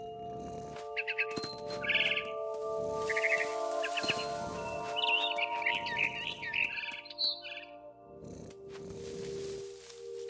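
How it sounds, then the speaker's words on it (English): Barn swallow chirping in the video game What Remains of Edith Finch: bursts of quick, bright twittering calls, close and clear, over a steady tonal ambient music bed. "Then I heard chirping outside my window."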